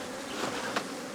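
A swarm of attacking killer bees buzzes in a dense, steady drone, fairly close, with a few louder passes of individual bees.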